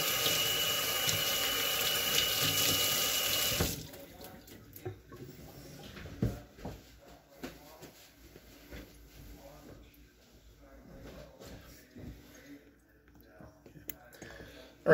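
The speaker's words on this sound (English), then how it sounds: "And just gonna rinse my hands." A tap gushes loudly for about four seconds while hands are rinsed during prosciutto preparation, then shuts off, leaving quiet drips and faint handling noises.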